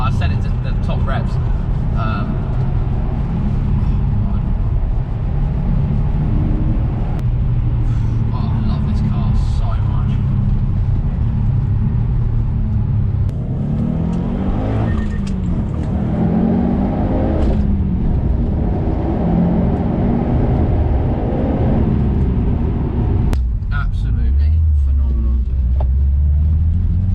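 A Subaru Impreza WRX STI RB320 limited edition with a louder aftermarket exhaust rumbles steadily under way, its engine note rising and falling with revs, heavy and continuous under someone talking throughout.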